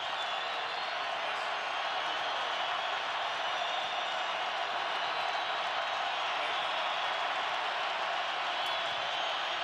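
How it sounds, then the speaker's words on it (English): A lively college football stadium crowd roars on fourth down at Cal against BYU, a dense, sustained wall of cheering under a commentator's voice. "Crowd is lively on 4th down."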